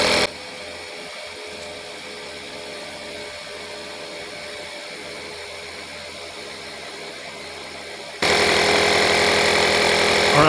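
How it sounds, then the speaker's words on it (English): A Stanley FatMax air compressor runs steadily, inflating toward 12 PSI with a constant motor drone that jumps louder and brighter near the end. "So I hit compressor, I'm going to set it at 12 PSI, hit the compressor one more time."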